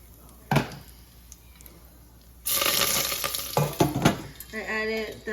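Cumin seeds drop into hot oil and erupt into a loud, steady sizzle that continues close by with stirring clatter. A quiet kitchen clink comes before it, and a voice speaks briefly near the end.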